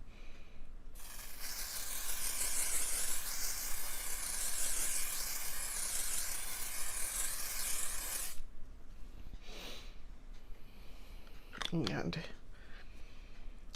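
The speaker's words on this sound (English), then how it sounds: "Alright, so I'm going to spray my face." A long continuous hiss of L'Oreal Infallible 3-second setting mist sprayed onto a face for about seven seconds, close and steady, followed by a couple of brief softer sprays and a breathy exhale.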